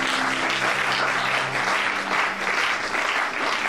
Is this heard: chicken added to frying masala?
no